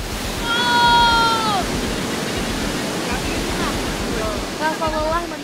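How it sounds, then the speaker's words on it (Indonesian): Timbulun waterfall roars as a steady, loud rush of falling water, with brief voice-like tones rising above the constant wash. "gue sampai di tujuan di air terjun Timbulun"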